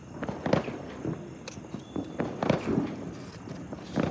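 Small pearl drops firecrackers pop and crackle at Diwali in scattered, irregular bursts, some sharp cracks standing out over a faint hiss.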